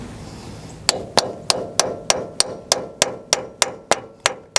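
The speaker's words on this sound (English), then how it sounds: "I bet if I could tap these notches counterclockwise, I could probably get this thing to loosen up" A hammer strikes notches on a Kubota part in a quick, even series of about a dozen sharp metallic taps, each ringing briefly before the next, close and clear with no talk.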